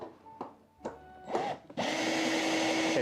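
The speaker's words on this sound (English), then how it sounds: "this is the main reason why I usually use the electric drill" An electric drill in a workshop, used for door restoration, starts after a few short knocks and bursts of handling noise, then runs steadily and loudly with a whining motor hum to the end.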